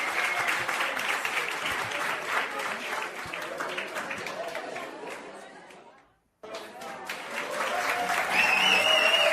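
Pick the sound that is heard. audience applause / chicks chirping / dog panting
audience applause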